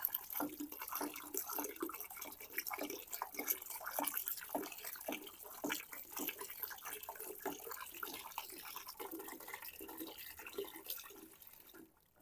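Alcohol poured into a homemade concentrated liquid laundry soap mixture, a steady splashing liquid stream running throughout, close and fairly loud, with no talk over it.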